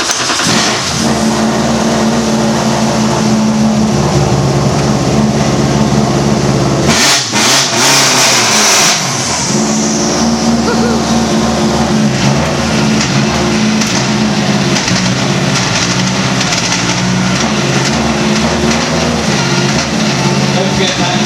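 Subaru WRC rally car engine revving loudly and continuously, with a brief sharp blip partway through, heard close up at a motorsport open day during a gearbox change demonstration.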